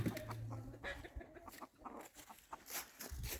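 Silkie chickens on a muddy homestead clucking outside near their coop: a busy, overlapping stream of soft clucks and chirps from several birds, close and moderately loud, with no voices.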